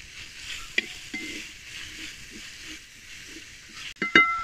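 Onions sautéing in rabbit fat in a pan, a soft steady sizzle under occasional light stirring taps and a sharper utensil clink near the end, close and quiet.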